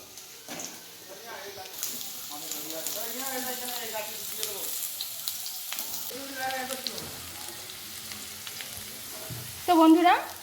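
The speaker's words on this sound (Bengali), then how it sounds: "তো এবার আমি আলুগুলো ভেজে নেব।" Potatoes sizzle steadily in a pan of oil, a continuous crackling fry under a voice, with a louder burst of sizzling near the end.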